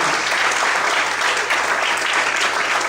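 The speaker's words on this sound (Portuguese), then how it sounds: "Nós fortes palmas, amém?" Strong, continuous applause from a church congregation fills the evening service, many hands clapping together in a loud, even wash of sound.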